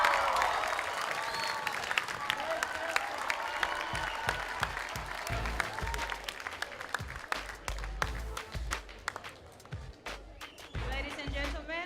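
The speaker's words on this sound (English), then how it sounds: "Round of applause for Busu Secondary." A crowd at a school debate grand final applauds the Busu Secondary team, the clapping sustained under an amplified voice that speaks over much of it.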